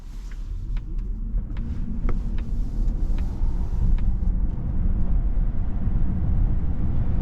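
A 2025 Polestar 3 electric SUV accelerating, mostly low rumbling road and tyre noise that builds steadily, with faint clicking ticks early on, heard from inside the cabin.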